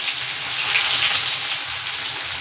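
Onions sizzle in hot oil with cumin in a kadhai, a dense, steady crackle and hiss close up with no talking.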